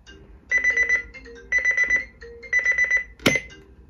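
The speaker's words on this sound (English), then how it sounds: "I had just finished setting the alarm when it started beeping" A Reizen talking atomic clock with thermometer sounds its alarm: three bursts of rapid electronic beeping, each about half a second long and about a second apart, close and clear, then ended by a short sharp click.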